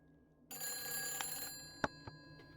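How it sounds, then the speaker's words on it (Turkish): A telephone rings faintly in a video game scene, a bright electronic ring that holds for about a second, followed by a few sharp clicks and taps. "oha telefon çalıyor ilk kez."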